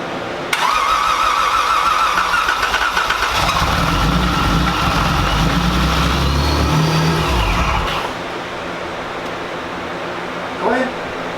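A Dodge Challenger that sat for five months cranks and fires up, its engine roaring loud and rough for several seconds before being shut off, leaving a quieter background.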